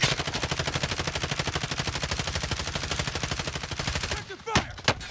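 Rapid automatic gunfire in Call of Duty: Warzone, a long fast burst of evenly spaced shots that stops near the end, followed by a couple of sharp isolated cracks.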